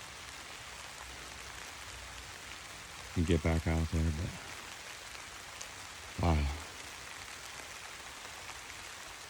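Steady rain patters on the wooded shore of a windy lake, a soft even hiss that runs throughout while someone speaks briefly twice over it.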